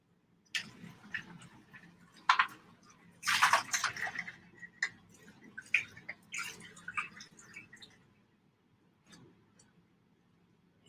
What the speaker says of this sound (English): let me rinse this one out